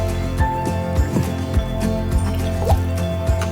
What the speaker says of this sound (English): So there's a time for me to add the water now.